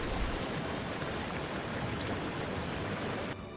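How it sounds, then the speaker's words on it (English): A tall waterfall in the Walkabout Mini Golf video game gives a constant, broad rushing hiss of falling water, moderately quiet and unbroken, cutting off abruptly at the end. "So here's the tall waterfall."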